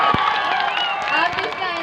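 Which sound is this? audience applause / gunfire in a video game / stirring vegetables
audience applause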